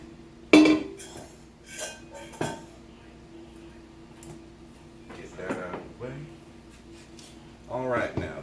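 Mixing bowl and kitchen utensils handled while cooking a roast chicken, with a sharp clank near the start, a few lighter clinks and taps spread through the clip, and a voice talking in between.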